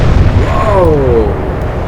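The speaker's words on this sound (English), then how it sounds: "Huge explosion." A ship explodes with a heavy boom in the naval strategy game Atlantic Fleet, a loud low rumble with a descending whistling tone fading over about two seconds.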